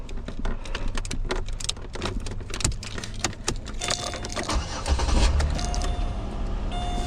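A 2007 Chevy Malibu with a key stuck in the ignition: keys jangle and click against the column, then the engine cranks and catches into a low, close idle.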